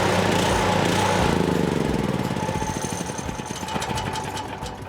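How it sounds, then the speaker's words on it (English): A small electric-start gasoline engine, choke on, fires up and settles into a loud, steady, rapid chugging run close by, with no talk over it. "It's electric start. Very simple. Turn on the gas, turn on the choke, push the button."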